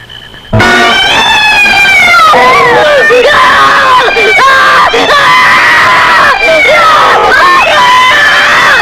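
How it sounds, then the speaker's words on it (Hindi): A crowd of people suddenly breaks into loud, frantic shouting and high-pitched screaming, overlapping voices rising and falling continuously at close range. "क्यों चिल्ला रहे हो?"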